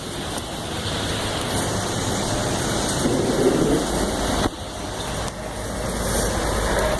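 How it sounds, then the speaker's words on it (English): Heavy rain pours outdoors as a steady, dense roar that fills the whole scene, with no voices and only slight swells in loudness. "Oh my God, that rain."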